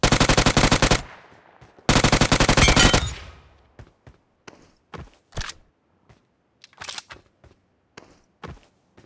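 Bursts of automatic gunfire in a battle royale mobile game, two long loud sustained volleys followed by scattered short distant shots and faint footsteps.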